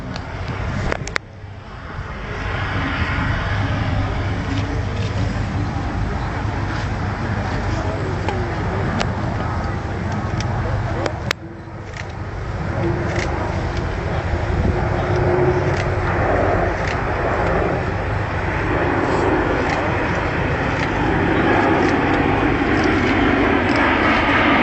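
Airbus A400M military transport aircraft flying at the RIAT 2012 air show, a steady broad engine roar held throughout, loud and continuous with faint crowd noise beneath.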